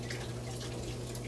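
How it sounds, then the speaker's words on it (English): Water pours into a cooking pot of freekeh, just enough to cover the grain, a soft steady trickle over a low constant kitchen hum. "Next step is to add water."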